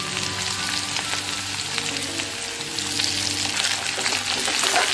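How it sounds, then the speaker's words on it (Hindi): Sliced onion drops into hot oil with crackling cumin seeds, making a busy, close frying sizzle with stirring scrapes that grows slightly louder toward the end, with no voices. "जैसे ही मेरा जीरा तड़कने लगा है अब मैं इसमें प्याज को डाल दूंगी।"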